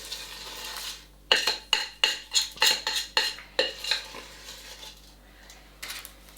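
A utensil scrapes chocolate orange crispy cake mixture out of a pan, making a close, rhythmic run of about ten sharp scraping clinks that trail off, with no talking.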